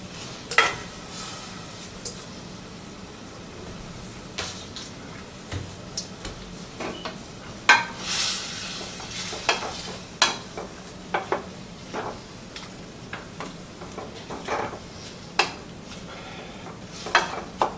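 Shrimp tumble into a pot of vegan bell pepper jambalaya and get stirred, with utensil clinks and scrapes against the cookware over a soft sizzle. The clatter comes in scattered, close bursts.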